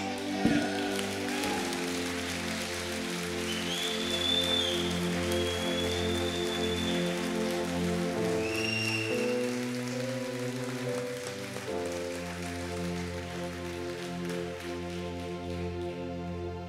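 A church congregation applauds during a sermon on the message of the cross, a soft, spread-out patter of clapping beneath sustained organ or keyboard chords, with a brief high tone in the middle.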